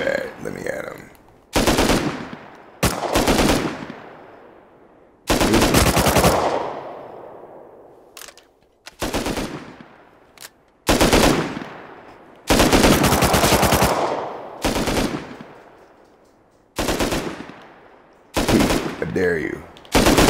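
Repeated bursts of automatic gunfire in the video game Rust, played on a custom console server, some loud and close and others trailing off, with short gaps between volleys and no talk.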